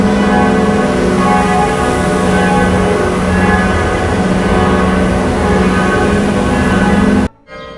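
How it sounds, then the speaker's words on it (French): Carillon of 26 bells, installed in 1905, ringing loud and sustained with overlapping tones for about seven seconds before cutting off abruptly to quiet. "Le carillon Glockenspitzplatz, installé en 1905, est composé de 26 cloches."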